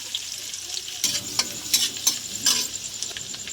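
Chopped garlic, green chilli and ginger hitting hot oil with cardamom, cinnamon and dried chilli for chilli chicken fried rice, a bright sizzle with a burst of loud spatula scrapes and stirs in the middle.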